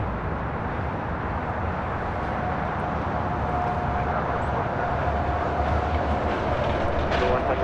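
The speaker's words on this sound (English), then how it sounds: "This is Seize the Moment, taking off to JFK with JetBlue Airways 1524, 5-year-old A321." Jet engine roar of a five-year-old JetBlue Airways Airbus A321 taking off from LAX, a steady broadband rumble that stays loud and constant throughout.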